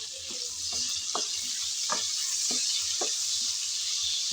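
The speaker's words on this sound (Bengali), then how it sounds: "চিংড়িগুলো দেওয়ার পর নেড়ে চেড়ে হালকা করে ভেজে নিতে হবে।" Shrimp stir-fry in a pan of hot oil for a kochur loti dish, giving a steady loud sizzle broken by regular scraping clacks of a spatula about every half second, close and without talk.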